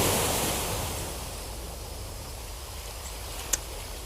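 Ocean waves and surf from the nature layer of Noisestorm's Crab Rave: a steady, broad wash of breaking water that eases slightly, with one tiny sharp click near the end.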